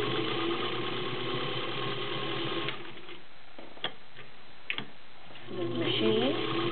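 A vintage Electro Grand Class 15 clone sewing machine runs with a steady mechanical whir for nearly three seconds, then stops. After a quiet stretch with a few small clicks, a voice speaks briefly.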